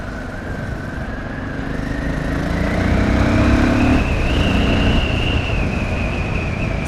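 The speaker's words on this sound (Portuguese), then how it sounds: "Essa moto aqui, ela é bruta" Powerful motorcycle engine running close by, a loud continuous drone that rises in pitch and intensity as it revs up and then holds steady, with no talk.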